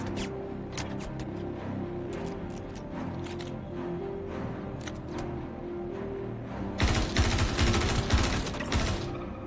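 Rapid automatic gunfire in the Star Citizen space game, a dense mechanical clatter of shots running over a steady engine-like hum, then swelling into a louder, harsher burst near the end.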